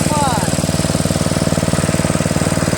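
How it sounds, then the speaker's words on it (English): A Toro Wheelhorse riding mower with a Briggs 8HP engine runs close by, its steady rapid chugging loud and even throughout, with a voice faintly present. "Wheelhorse. Riding mower."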